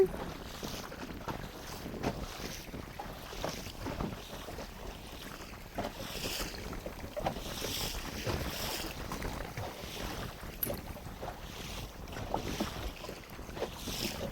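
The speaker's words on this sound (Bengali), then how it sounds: "আর আজকে নদীতে হচ্ছে খুব ঢেউ, তার সাথে হাওয়া। আর আমাদের নৌকাটা বাবা একাই বেয়ে নিয়ে যাচ্ছে।" A wooden boat rowed by one man on a choppy, wave-tossed river under strong wind, with steady wind rush and water noise and recurring splashes from the oars.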